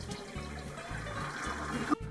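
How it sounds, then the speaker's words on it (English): A toilet flushes right after a new flush valve is installed, with water rushing and refilling steadily at close range, a low repeating rumble underneath and no talking. "And flush the toilet and make sure everything works properly."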